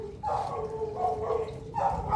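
A dog outside, not the household's own, calling from some distance off, with drawn-out tonal cries repeating in three phrases over soft background hiss.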